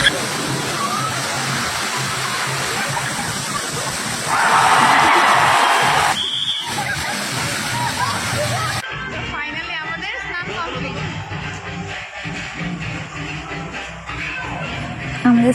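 Bathers splash and wade in a pool at a water park in Malda, with steady rushing water and a busy crowd murmuring throughout, a louder surge of spray midway, then a quieter, closer scene.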